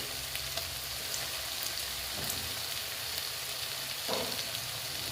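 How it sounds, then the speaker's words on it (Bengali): Chopped onion sizzles and fries in a pan with ginger-garlic paste being added, a steady close crackle running throughout with a brief stirring scrape near the end, prepared as a base for spicy egg curry cooked on a rooftop. "দেখো পেঁয়াজটা এইরকম ভাজা ভাজা হয়েছে এখন আমি এখানে দেব আদা আর রসুনের পেস্ট"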